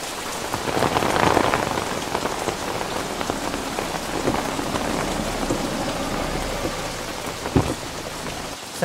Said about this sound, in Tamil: என்ன மழை.